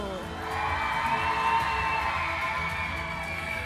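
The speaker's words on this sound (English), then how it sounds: "can we hear a cheer from 경기도?" A crowd of students at a speech contest cheering and whooping from the audience, a steady, loud wall of voices holding for several seconds.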